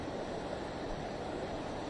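Water washes along a reservoir shore near a dam in Telangana, a steady broadband rush mixed with wind buffeting the microphone, continuous and close.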